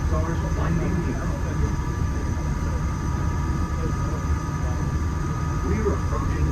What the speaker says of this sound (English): We're approaching the Epcot monorail station.